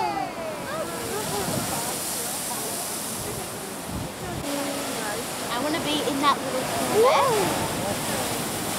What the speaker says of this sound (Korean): 파도가 이 작은 화강암 구멍으로 솟구친다.